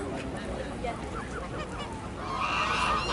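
Ducks call with honking, nasal cries over steady outdoor noise near travertine terraces and a small lake in Turkey. The calls are moderately distant and partly masked by the background.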